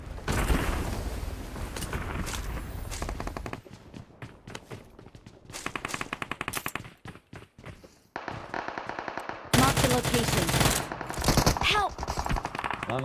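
Rapid automatic gunfire in a video game, loud dense bursts of shots in long strings with brief pauses and shifting intensity, a voice briefly talking amid the firing.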